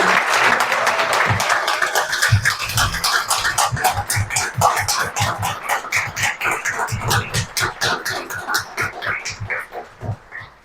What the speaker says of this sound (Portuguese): E aqui eu peço uma salva de palmas para o Padre Antônio